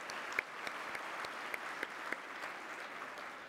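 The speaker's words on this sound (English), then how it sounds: "let's give them a big round of applause" An audience at a sports business awards ceremony claps steadily for the staff, a moderately distant, even applause with a few sharper individual claps.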